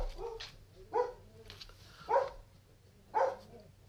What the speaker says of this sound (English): My dogs are barking, apparently.